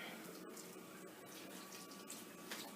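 Water poured into a hot pan of vegetables during a lower-calorie lasagna recipe, giving a steady running, hissing wash of liquid with a few brief clicks, continuous and close throughout.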